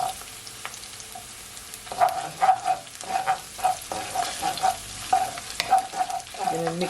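Meatball sauce frying in a pan with tomato puree being stirred in: loud wet sizzling and squelching stirring strokes in a steady rhythm, close up.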